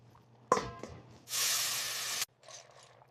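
Cooked pasta drained into a strainer for three-cheese mac and cheese: a brief clatter, then a steady loud rush of pouring water and hiss lasting about a second, followed by faint dripping and quiet.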